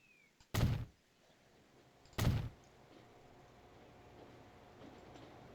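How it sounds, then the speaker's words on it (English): Two heavy thumps from a test train in Transport Fever 2, like railcars clanking over track joints about a second and a half apart, followed by a low, steady rumble of rail ambience with no talk. "Oh, that test train."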